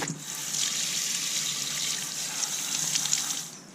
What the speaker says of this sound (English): I'm going to rinse that now thoroughly